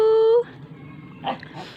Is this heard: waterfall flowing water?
no